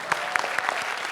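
A live-show audience does the wedding clap: a short, faint burst of scattered hand claps, a few distinct sharp hits over about a second.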